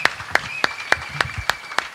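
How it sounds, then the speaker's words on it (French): A church congregation claps in worship, seven sharp, evenly spaced claps about a third of a second apart, close and moderately loud, with a faint steady tone running underneath. "Nous acclamons pour la gloire de Dieu."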